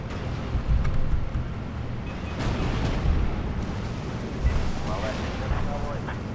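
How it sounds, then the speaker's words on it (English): Artillery fire in the Steel Division 2 war game, a series of dull booming impacts and rumbling blasts under steady battle noise, with someone talking over it. "Artillery."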